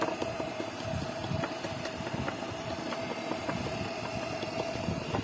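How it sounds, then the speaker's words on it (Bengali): A treadmill motor, being repaired after armature and circuit damage, spins fast with a steady mid-pitched hum and rattly vibration, close and continuous with no voices. "এই যে জোরে মোটরটা ঘুরছে, কোনো সমস্যা নেই, স্পিড করে দেওয়া আছে।"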